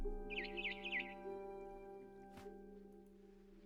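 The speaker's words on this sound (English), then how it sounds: "a barn swallow going back to her nest" A brief burst of quick, high twittering barn swallow chirps from a video game, What Remains of Edith Finch, near the start, faint over a steady electronic hum, followed by a soft click.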